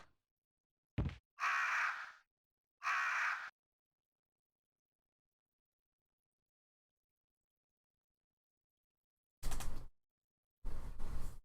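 Crows caw in Resident Evil on PlayStation, a few loud harsh calls in quick succession, then silence before more raspy cawing bursts return near the end.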